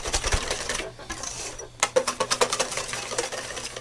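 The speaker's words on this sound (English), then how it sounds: "And we whisk that up." A whisk beats hollandaise sauce of egg and clarified butter in a bowl. The clicking is quick and rhythmic, a faint patter at first that grows into clear, close, regular taps after a short pause, with no voices.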